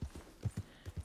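A horse's hooves clip-clop at a walking pace in the Red Dead Redemption 2 video game, about seven soft, fairly faint thuds in a steady uneven rhythm.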